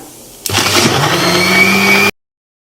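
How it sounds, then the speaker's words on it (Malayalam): A mixer grinder blends a hibiscus shake with a sudden loud motor whine that holds steady for under two seconds, then cuts off abruptly. "അപ്പൊ ഇനി ഇത് അടിച്ചെടുക്കാം"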